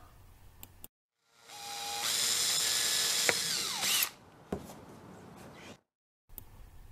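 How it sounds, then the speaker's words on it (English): A power drill whines up and runs steadily for a couple of seconds, pitch shifting as it bites through a plastic bleach bottle near its bottom, then stops, followed by a sharp click. "Drill a hole near the bottom of the bottle."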